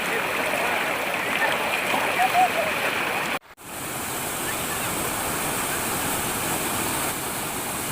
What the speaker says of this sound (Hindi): जब ये नदी चट्टानों से होकर गुजरती है तो इसके कलकल की ध्वनि मन मोह लेती है।